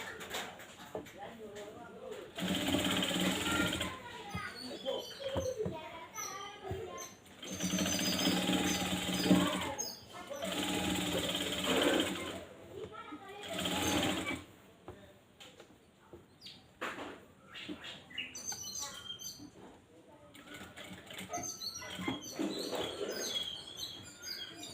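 A sewing machine stitches fabric for a nightie in several bursts of rapid rattling separated by quieter pauses, with birds chirping faintly in the background.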